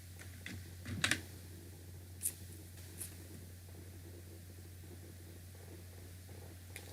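A few scattered clicks of typing on a computer keyboard, bunched early then sparse, faint over a steady low electrical hum.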